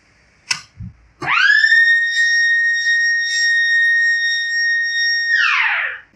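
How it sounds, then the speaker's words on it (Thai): A couple of short clicks and taps, then a water pump's no-water-flow alarm siren starts and holds a loud, steady high tone for several seconds before cutting off. "ก็มีเสียงสัญญาณดังขึ้นมานะครับ จากไซเรนตัวนี้นะครับ"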